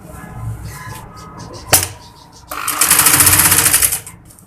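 A sewing machine stitching a lining kurti neckline, starting with a brief clack and then a loud, fast rhythmic run of stitching for over a second before stopping, with a voice talking at times.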